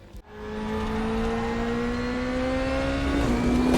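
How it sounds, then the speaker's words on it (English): A 2020 DTM Audi race car engine in the Raceroom racing game, rising from a brief low thump into a steady, loud, whining drone that climbs gradually in pitch, then briefly dips before carrying on, with no voices. "here we are in the 2020 DTM Audi"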